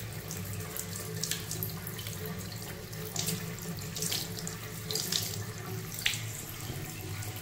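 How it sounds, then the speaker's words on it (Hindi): Cold water runs from a bathroom tap in a steady, close splashing stream that keeps going through the whole stretch, with no voices. "पानी अभी तो ठंडा ही आ रहा है"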